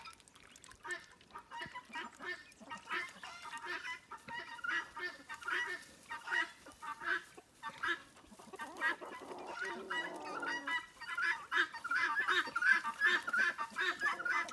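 Hens and ducks call back and forth in a free-range backyard flock, with repeated clucks, squawks and quacks layered close by and continuing throughout.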